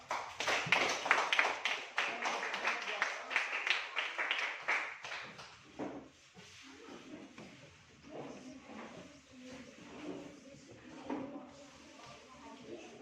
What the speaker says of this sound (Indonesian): terima kasih tepuk tangan untuk kelompok 4